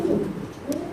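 A pigeon held in someone's hand gives a soft, low coo, a murmuring call that swells at the start and again near the end of a second, close and fairly clear.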